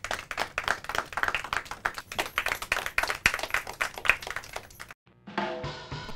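An audience at a Hindi quiz competition claps for the teams in a brisk, fairly steady rhythm of many hands for about five seconds. After a brief silence, a burst of music follows.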